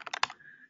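A few quick keystrokes tap on a computer keyboard, four or five close clicks in a fast burst followed by a faint fading tone, with no talking.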